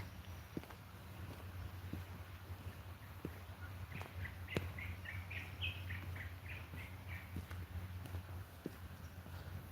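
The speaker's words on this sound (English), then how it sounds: "That bird is called the yellow-whiskered green bull. It's a very loud bird." A loud yellow-whiskered greenbul sings a burst of bubbly, warbling notes in the middle, in Kenya, over a low steady background hum with occasional knocks and clicks.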